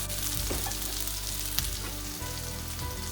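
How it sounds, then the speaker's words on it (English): Ginger garlic paste fries in hot butter and oil in a pan, a loud continuous crackling sizzle heard up close with a few soft stirring knocks and no talking. "Let's add 1 tablespoon of ginger garlic paste"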